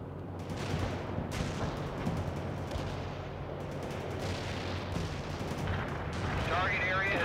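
Heavy artillery barrage in the World In Conflict video game, with deep booming impacts and rolling explosions layered under a voice talking.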